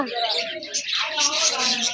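Pigeons, including Sirazi birds, coo and chirp inside a bird shop in Gazipur, close and busy, with people talking over the calls.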